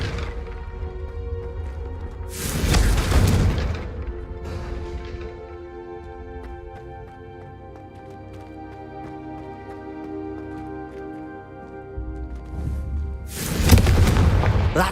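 Explosive blasts from a Confringo spell in a Harry Potter wizarding video game, two loud booming bursts several seconds apart over a soft musical background.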